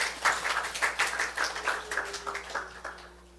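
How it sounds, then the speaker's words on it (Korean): Congregation clapping during a Korean church worship service, a short burst of scattered, uneven claps that thins out over a few seconds, with a faint sustained tone underneath. "우리 하나님께 박수 올리자."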